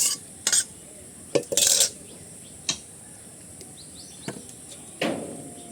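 Cooked fish and sweet potato leaf curry is ladled from a pot on a clay stove into a bowl, giving a few sharp, close metallic clinks and scrapes of spoon on dish, spaced out over quiet background.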